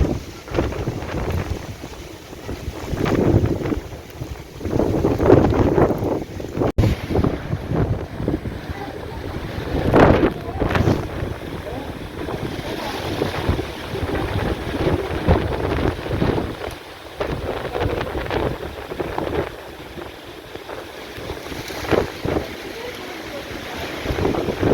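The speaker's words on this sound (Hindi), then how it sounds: "आंधी भी तेज़ होनी जानी है तो बारिश भी बस तेज़ होनी जानी है" A strong wind and rain storm roars steadily, with gusts swelling and fading as a rough, broadband rush buffets the microphone throughout, with no talking.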